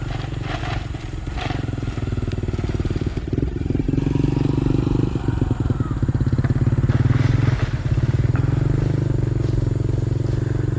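Indonesian Babaranjang extra-long coal train rolls past close by, a steady loud rumble with dense rhythmic wheel clatter and thumps over the rails, sustained without a break.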